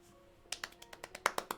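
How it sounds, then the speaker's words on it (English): A slow, sparse golf clap from one person working on a Lego Optimus build: about ten crisp, light hand claps in an uneven rhythm, close by and fairly quiet, with no talk over them. "Golf clap."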